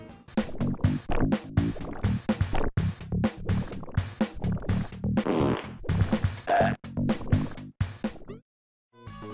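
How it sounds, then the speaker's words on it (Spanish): Cartoonish fart sound effects from the Boogerman video game on Sega Genesis and Super Nintendo, a rapid dense series of loud, wet, sputtering blasts of varying length and pitch, heard alone without talk. "también puede eructar y usar sus gases intestinales"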